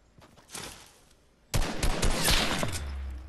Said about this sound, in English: Of course I get sniped.